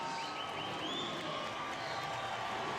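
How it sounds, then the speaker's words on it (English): Steady crowd noise with applause and cheering from a large audience at a baseball game as a batter comes to the plate with the bases loaded, continuous and moderately loud throughout, with no clear speech. "you hear the applause as he comes to the plate."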